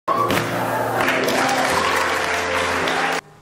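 Crowd applauding a modern art exhibit, steady loud clapping filling the space for about three seconds before cutting off abruptly, with faint voices mixed in.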